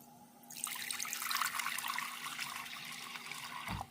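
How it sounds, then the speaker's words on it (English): Water poured from a tap into a pot of canned beans while cooking, a bright, splashing gush that starts abruptly, runs steadily close by for about three seconds, then cuts off with a soft clunk. "I'm going to add water."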